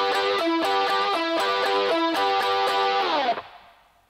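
Distorted electric guitar plays a run of double stops from the outro of a song's solo as performed live in 1988, steady picked notes for about three seconds, then a chord left to ring out and fade.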